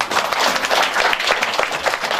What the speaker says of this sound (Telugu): చప్పట్లు కొడదామండి